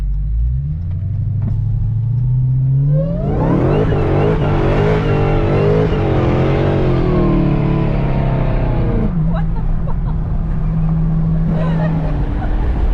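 A 2017 Dodge Hellcat with an aftermarket intake, new exhaust tips and new tires idles with a deep burble, then roars through a hard rev and acceleration for several seconds before settling back to a low, rumbling idle, close and loud.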